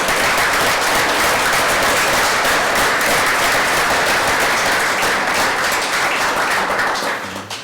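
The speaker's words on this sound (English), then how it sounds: "give all the candidates one last round of applause" Loud, dense applause fills a city council special meeting, a crowd clapping continuously for several seconds before it begins to fade at the very end.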